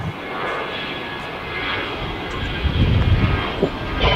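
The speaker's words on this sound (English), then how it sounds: "That is Asiana Airlines on an A350 that's getting that tug back." A tug pushes back an Asiana Airlines Airbus A350 at Los Angeles International Airport, heard as a steady, broad jet and engine rumble at a distance with no voices.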